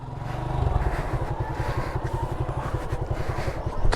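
A motorcycle ridden slowly in a tight, cramped spot, its engine chugging close and loud in a steady rhythmic pulse that swells slightly as the throttle opens.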